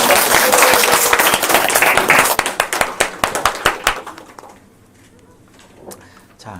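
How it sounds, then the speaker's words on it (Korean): Church congregation applauding during a Christmas worship service, loud dense clapping for about four seconds that thins into scattered claps and fades to near silence, with a faint bit of talk at the end. "박수 한번 더 칠까요?"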